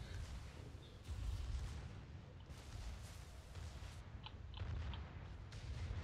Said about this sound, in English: my secondary gun batteries are ripping this guy to shreds